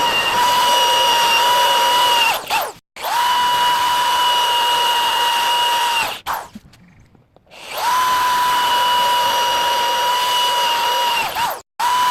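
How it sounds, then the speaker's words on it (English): A power drill whines steadily at high pitch drilling holes in steel plate and angle iron, stopping briefly a few times before starting again, loud and close with no talking. "I'm going to go and start the drilling."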